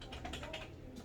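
A computer keyboard's enter key is pressed several times in quick succession. The clicks are faint and close, with no talking.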